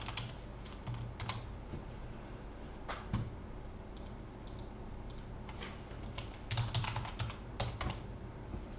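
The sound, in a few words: typing on a keyboard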